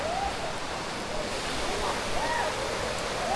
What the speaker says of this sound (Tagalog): Ito yung running water dito.